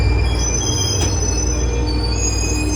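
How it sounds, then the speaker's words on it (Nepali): Train wheels squeal loudly and continuously as a passenger train pulls into a station, a steady high metallic screech with rumbling rail noise underneath and no talking. "आइपुग्यो रेल पनि, अब चाहिँ चढ्नुपर्छ है त।"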